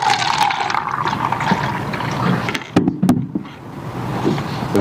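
Water pours and splashes into a cup for a witness at the stand in a courtroom, a steady liquid rush with a few sharp clinks near the end, close and fairly loud.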